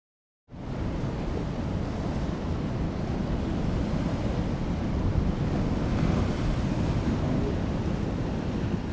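Surf and wind on a wave-cut platform at the northern end of Bar Beach, on the Bar Beach Formation: a steady, loud roar of breaking waves mixed with buffeting wind, starting abruptly and continuing unbroken with no voices.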